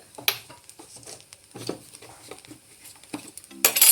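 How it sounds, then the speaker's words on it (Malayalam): A spoon stirring grated coconut and Kashmiri chili powder roasting in a pan, producing close, irregular scrapes and light clinks with a soft dry patter between them, ending in a louder clatter. "ഒന്ന് ഇളക്കി കൊടുത്തേക്കാം, കാരണം അടിക്ക് പിടിക്കരുത് ഒരു കാരണവശാലും"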